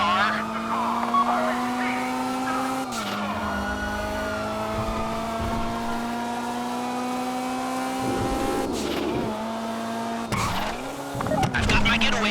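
A getaway car in the GTA Online Fleeca bank heist revs hard with a steady engine drone. Its pitch dips at several points as the tires skid and squeal, and game voices or effects sound now and then.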